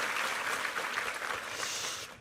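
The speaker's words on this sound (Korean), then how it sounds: "우리 수고한 2부 성가대에게 한번 힘찬 격려의 박수 부탁합니다" A church congregation at a Sunday service claps in a dense, steady round of applause for the choir, fairly distant and even, then cuts off at the end.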